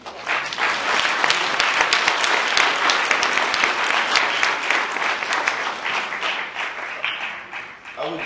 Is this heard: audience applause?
yes